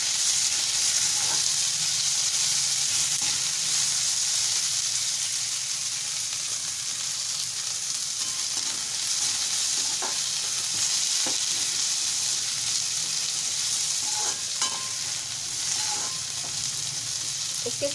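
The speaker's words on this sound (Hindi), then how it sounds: "इसे हम थोड़ा सा पिंकिश होने तक प्याज को भून लेंगे" Onions frying with dried red chili, bay leaf, garlic and green chili in a pan over low flame for a Bihari-style aloo kumhrauri, giving a steady close sizzle with occasional stirring scrapes throughout.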